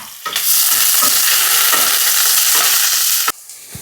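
Onion and green chilies fry in hot oil for a pumpkin dish, a loud dense crackling sizzle that flares up sharply and holds steady for about three seconds with a few stirring knocks, then drops away.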